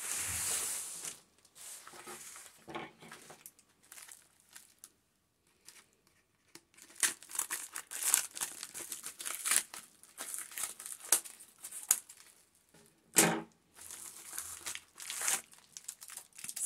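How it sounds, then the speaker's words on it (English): Plastic packets from small AliExpress diamond painting kits crinkle and rustle as they are opened and handled up close, in irregular bursts of crackling with brief pauses, fairly quiet and with no talking. "I'm going to take it out of the packet and hopefully there's not too much crinkling."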